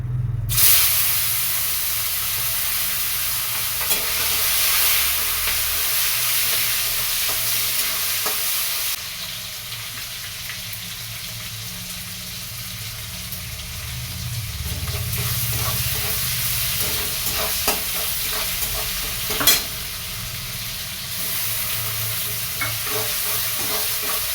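Green chilli, ginger and cumin paste frying in oil in a pan, a steady loud sizzle and hiss with occasional stirring scrapes running continuously throughout.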